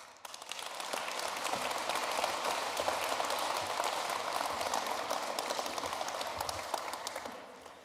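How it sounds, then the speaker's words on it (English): Conference audience gives a warm welcoming applause to a speaker at an electric aircraft concept presentation, a dense, steady wash of clapping that swells quickly and holds for several seconds, heard from a distance. "Please give a warm applause to Mr. Martin Nüssler."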